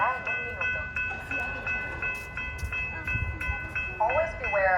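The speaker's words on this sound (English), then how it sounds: "the Sunrail P.32118 is now arriving at the Winter Park station" SunRail commuter train pulling into Winter Park station in Florida, with a steady rumble, brief whistle-like tones and clattering wheel and brake sounds, loud and close throughout.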